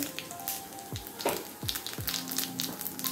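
Mustard seeds crackling in a ladle of hot oil in a kadhai for tempering, a dense continuous sizzle with scattered sharp pops and a few low thuds throughout.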